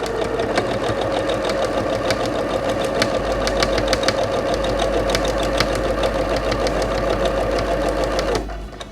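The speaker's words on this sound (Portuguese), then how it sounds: "Eu estou a costurar com linha branca, uma vez que o panito também é branco." A sewing machine stitches a terry kitchen towel with white thread, a close, steady rhythmic clatter of needle strokes running for several seconds before stopping abruptly near the end.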